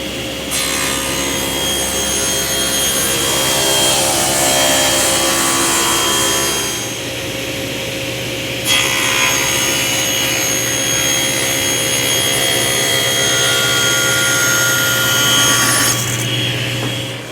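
A saw cutting a wood board lengthwise to width in two passes for a bathroom vanity; a loud, steady buzzing cut runs about six seconds, pauses briefly, then resumes for another long continuous pass.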